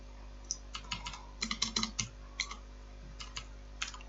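Quick, light clicks of a computer keyboard as comments are typed into C++ code, coming in small bursts with brief pauses over a low steady hum.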